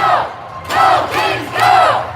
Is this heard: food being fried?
no